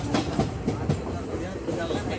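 A passenger train runs along the tracks, a continuous rumbling clatter with rhythmic wheel knocks heard from inside or alongside the carriages, steady and moderately loud throughout.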